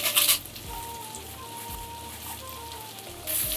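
Curry leaves and dried Byadgi chilies sizzle in hot oil with a steady close hiss and crackle, and bursts of louder spitting come at the start and end.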